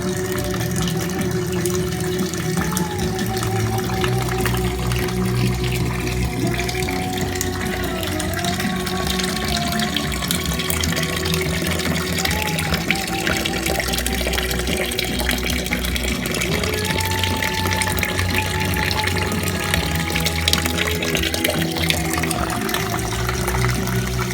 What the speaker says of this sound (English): So this is called sparging, and this is called wort.